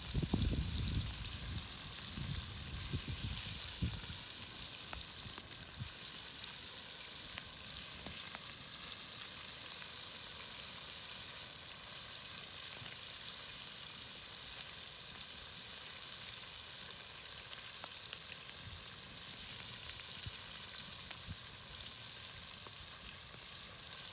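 Snakehead fish fillets sizzle and crackle in hot oil with garlic chives, a dense, steady frying hiss with faint pops and a brief stir at the start, no talking.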